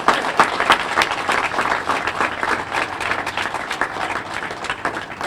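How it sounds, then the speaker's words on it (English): Audience applause at an event honoring a woman in New Bedford, a steady wash of many hands clapping, fairly loud and sustained throughout with no talk over it. "Clap for that."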